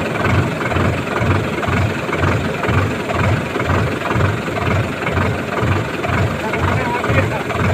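Tractor engine runs steadily in a pigeon pea field during crop spraying, a loud, continuous low rumble with a regular pulsing throb throughout.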